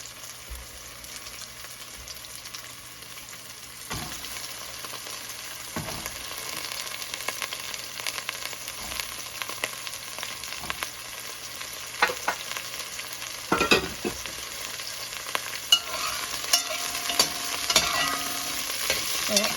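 Cauliflower is tipped into a pan of toasted cumin seeds for a chickpea dish, bringing a moderate ongoing sizzle. Scattered stirring knocks and scrapes become more frequent and louder over the long stretch.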